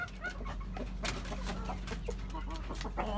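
A yellow desi hen clucks after laying an egg, a run of rhythmic, fairly close cackles over faint background noise, with no talking.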